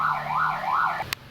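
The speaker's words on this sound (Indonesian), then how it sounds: "saya tadi berhentikan karena ada suara ambulans" An ambulance siren wails in a steady rising-and-falling pattern, fairly close and loud, cutting off abruptly near the end with a short sharp click.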